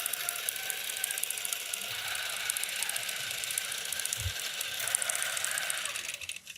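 Sewing machine stitching a duffle bag, a fast steady mechanical whir and ticking that runs throughout, slowing and stopping at the very end.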